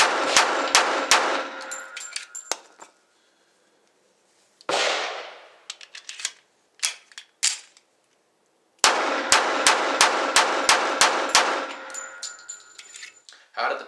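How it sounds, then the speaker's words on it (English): A Colt 1911 .45 pistol fires at a small target about 25 yards out, in two fast strings of sharp, ringing shots with a clanging tail, separated by a pause with a few scattered single shots. "I took it out to about 25 yards, and I was shooting at a small target"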